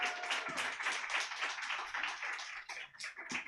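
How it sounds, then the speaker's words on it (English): An audience at a comedy show claps and cheers for a comedian. The applause is dense, steady and close, with no talking, and it pulses slightly as it goes on. "I need you guys to clap, get excited, make some noise. Give it up for Julian Lacrosse."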